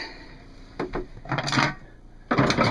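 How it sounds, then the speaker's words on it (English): Tools shifted aside inside an RV, a few close clattering knocks and rattles of hard metal and wood objects in short bursts separated by brief pauses, no voices. "Move some of these tools out of the way."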